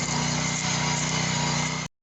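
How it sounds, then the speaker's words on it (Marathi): Small rotavator farm machine running steadily nearby with a buzzing small-engine drone, loud and constant, cutting off abruptly near the end. "खालून मशीन चालत आहे रोटावेटर, मागून बेड."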